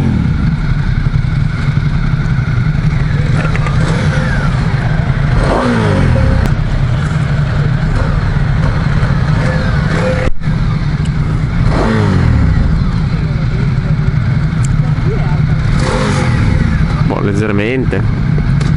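A Ducati Diavel 1260 motorcycle ridden through traffic with a passenger, its engine revving in loud, rising surges over a steady rumbling drone that continues throughout.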